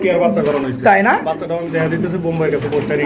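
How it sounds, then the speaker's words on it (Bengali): Giant breed pigeons at a pigeon farm coo in low, throaty, rolling calls close by, with one rising coo standing out mid-way and a voice murmuring underneath. "এটা কিন্তু জায়ান্ট কুমার কবুতর"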